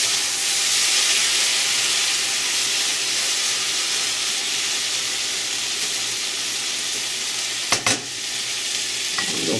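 Okra and tomatoes simmer in a kadai with a steady, close sizzling hiss of frying and gentle bubbling, broken near the end by a couple of sharp clinks as a utensil touches the pan.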